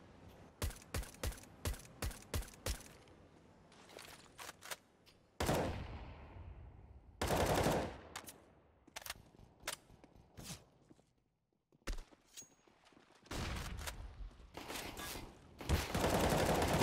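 Rapid bursts of pistol gunfire from a competitive shooter video game match between Team BLINK and Oilers, sharp close shots in quick clusters separated by short gaps and footstep-like clicks, with no talk.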